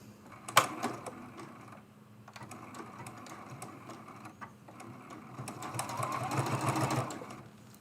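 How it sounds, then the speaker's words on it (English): A sewing machine stitching and back stitching binding on a fabric mug rug, a quiet steady mechanical whir with a sharp click at the start and louder running toward the end. "I will do just a little back stitch to lock this binding in place"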